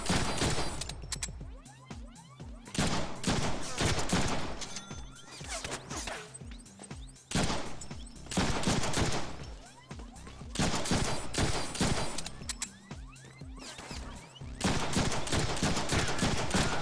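Dense, continuous bursts of video-game gunfire from Deadpool, loud and sustained with rapid overlapping shots and crashes, broken by brief pauses before firing resumes.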